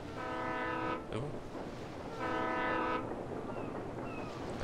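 Train passing by in the video game Alan Wake, with a loud horn-like tonal blast sounding twice, each about a second long, over a steady rumbling background.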